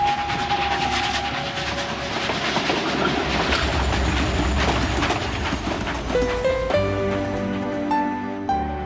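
Deportation trains rolling on rails during the Holocaust, a continuous rumbling clatter of wagons with rhythmic clicks and shifting metallic squeals and tones, loud and steady throughout.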